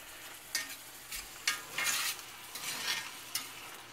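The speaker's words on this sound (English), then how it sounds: "Ever watch onions saute?" Onions sauté in a pan under a soft background sizzle, broken by several scraping stirring strokes at irregular intervals, close and quiet, with no talking.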